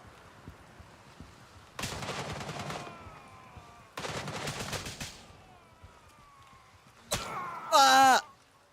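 Bursts of 7.62x54 rifle fire in a video game, two rapid volleys of closely spaced shots followed by a sharp single crack and a louder final burst, with a voice talking faintly in the background.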